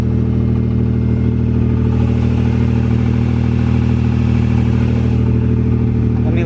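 An Acura NSX with a possible exhaust leak runs at a steady idle, a constant loud low drone with faint ticking and clatter layered on top and no voices.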